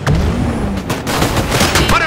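Squad units in Disintegration pour focused gunfire in short bursts over a loud, busy battle mix, with booming impacts and a couple of sweeping tones overhead.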